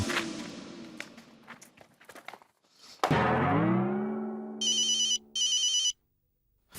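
A telephone rings unanswered in an office scene, with repeated electronic ring bursts near the end of the clip after a thud and other bangs, loud and close with no talk over it.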